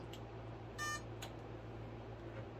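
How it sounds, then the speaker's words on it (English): Two short electronic startup beeps from an FMS PA-18 Super Cub RC plane, the first a bright tonal chirp and the second briefer, over a steady low hum. "You're going to hear those 2 beeps."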